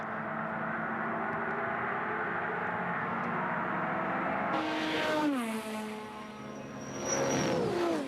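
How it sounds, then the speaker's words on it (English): Touring race cars from the 1984 endurance race roar past a fixed trackside spot on Conrod Straight at full throttle, their engine notes rising then dropping sharply with a strong Doppler sweep, one after another. "You'll hear the cars whistling past our static camera. Just listen to the exhaust roar."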